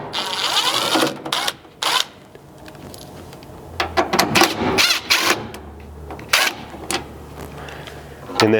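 T20 Torx screws being backed out of a driver's side tail light on a third-generation Chevy Colorado truck, with bursts of buzzing driver whir and clicking ratchety handling noises close by.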